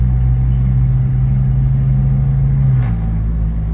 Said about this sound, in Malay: Layan bunyi Audi ya.